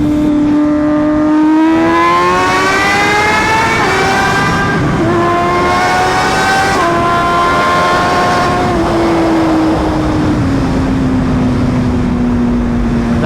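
An MV Agusta Brutale RR motorcycle pulls hard through the gears, its engine note climbing steadily, dropping briefly at each upshift, then rising again, loud and close with wind rush and no talk.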